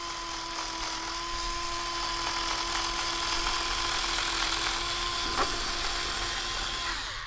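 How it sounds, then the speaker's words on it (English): A multi-purpose cutting tool slicing through a microfiber cloth gives a steady, close mechanical whine with a faint high hum, running continuously for several seconds. "So we're still able to cut through that microfiber cloth."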